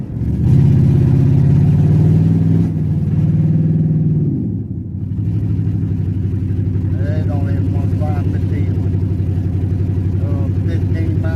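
A car engine revs under throttle, falters and nearly dies midway, then settles into a rough, uneven low rumble, with the note wavering. It is close and loud.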